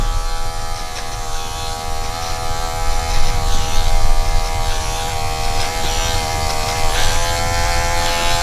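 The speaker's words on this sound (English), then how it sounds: "I'm gonna work my way down with the magic clip and take that 0 line out." Wahl Magic Clip hair clipper cutting hair during a fade haircut, a loud close electric buzz running steadily throughout, with slight swells as the blade moves through the hair.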